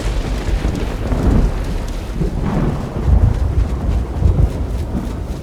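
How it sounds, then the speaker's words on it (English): Heavy rain and gusting wind roar continuously in a storm in The Elder Scrolls IV: Oblivion's Shivering Isles, with low rumbling swells like distant thunder rolling through. "Not just rain, it's a storm."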